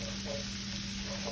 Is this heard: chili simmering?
yes